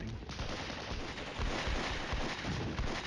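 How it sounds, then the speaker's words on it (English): An artillery barrage in the Flashpoint Campaigns: Cold War wargame, a fairly faint, dense crackle of gunfire and thudding impacts rolling on continuously, with no talking. "That's where that barrage was going."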